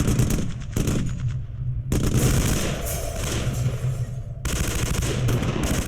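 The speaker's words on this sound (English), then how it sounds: "The sounds of gunfire come from the direction of Konev's HQ." Rapid bursts of automatic gunfire rattle in a video game, with brief pauses between volleys over a steady low background drone.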